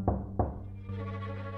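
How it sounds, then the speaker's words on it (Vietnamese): Two hollow knocks on a door in the Minecraft video game, closely spaced and fairly faint, followed by a steady ambient game hum with no speech. "Có người gõ cửa."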